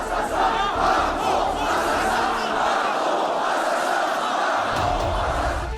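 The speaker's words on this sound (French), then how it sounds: "Une partie de la foule a commencé à crier « Macron assassin »" A rally crowd at an Éric Zemmour meeting at the Trocadéro in Paris chants "Macron assassin" in loud, sustained, massed voices that stay dense and close throughout.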